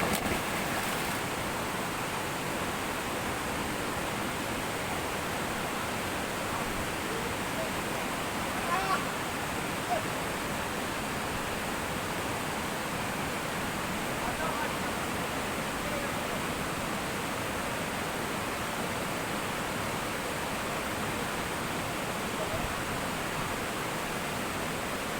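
Steady rushing water from a hidden waterfall near Padang, a broad continuous roar that holds evenly throughout with no breaks.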